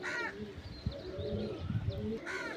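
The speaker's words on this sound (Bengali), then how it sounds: "পাঞ্জাবি পায়রা দেখতে ভালো হয় না, এদের উড়ান খুব দারুণ হয় দাদা।" Punjabi pigeons coo in soft, repeated throaty phrases, several overlapping calls rising and falling close by over a low background rumble, with no talk.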